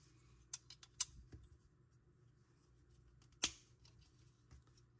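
Small plastic Transformers model kit parts snap together, giving a couple of sharp, close clicks early on and one crisp louder snap later, over quiet handling noise.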